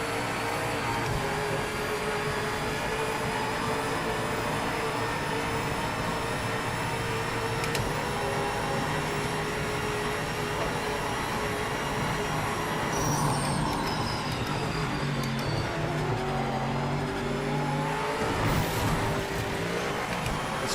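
A GTE race car laps in the Project Motor Racing sim, its engine droning loudly and continuously as revs rise and fall through gear changes, with no talking over it.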